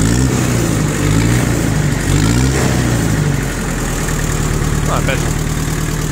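A Mitsubishi MT2201D Japanese tractor fitted with a rotary tiller idles steadily and evenly, a constant low engine drone running throughout with someone talking over it close by.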